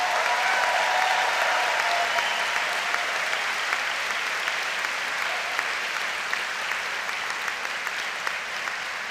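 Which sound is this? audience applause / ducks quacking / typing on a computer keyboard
audience applause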